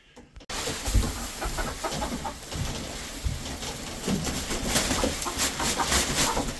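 Hens in a backyard chicken coop during spring cleaning, soft clucks and scratchy rustling running steadily with busy bird chatter and shuffling close by, no talking.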